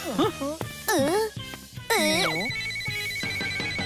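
A phone ringtone plays a loud melodic tune from start to finish for an incoming call, with children's voices chattering over it.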